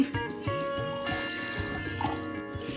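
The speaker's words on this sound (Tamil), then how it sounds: "இதில் ஒரு டம்ளர் தண்ணி ஊற்றி" Water pours and trickles into a vessel, with gurgling drips and small splashes over a quiet room background.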